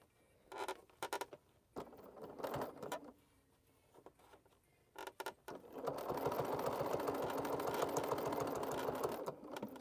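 A sewing machine stitches through thick bag fabric. Short separate bursts of stitching come first, then a steady, close mechanical whir runs continuously to the end.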